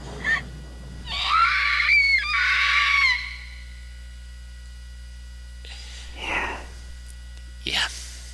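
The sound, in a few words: screams of pain in the video game Corpse Party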